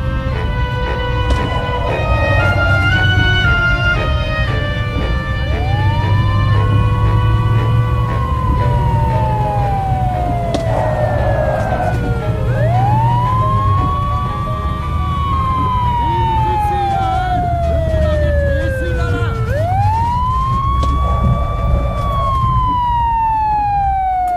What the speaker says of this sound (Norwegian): Skjønner du ikke at det er politibil når du hører sirena?